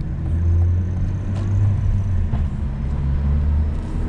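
Cadillac CT4-V Blackwing with a manual transmission driving on the road, heard as a steady low engine rumble and road noise from inside the cabin, continuous and fairly loud with no talking.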